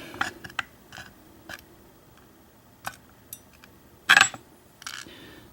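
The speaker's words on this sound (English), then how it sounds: "And drop the springs here." Small springs dropped out of a gutted blue American 1100 long-shackle padlock make a few scattered light metallic clicks and tinkles, one brighter cluster near the end, close and quiet in a still room.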